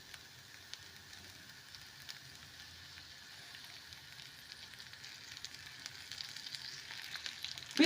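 Dried omena (silver cyprinid) fish frying in a generous amount of cooking oil, a steady close sizzle and crackle that grows slightly louder toward the end, with no talking.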